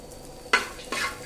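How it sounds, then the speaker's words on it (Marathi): Grated coconut roasting in oil in a pan, two sharp bursts of sizzling as it is stirred and tossed, close and fairly loud, with no talk. "आता याच्यामध्ये साधारणतः अर्धी खोबऱ्याची वाटी एवढं खोबरं मी छान परतून घेणार आहे"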